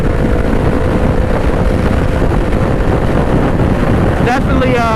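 A 2020 Honda CBR500R motorcycle at highway speed, steady loud rushing wind and engine drone throughout with no break.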